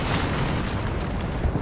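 Airstrike explosions in Apex Legends, a dense continuous roar of booming blasts filling the whole short stretch, loud and close with no talk over it.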